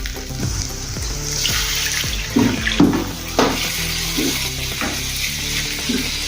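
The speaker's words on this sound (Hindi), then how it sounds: "अभी इसमें हम पानी डालेंगे" Water poured into hot roasted masala in a pan, splashing and hissing against the sizzle, with a few stirring knocks and bursts of bubbling as the Gobhi Patodi Rassa gravy is mixed.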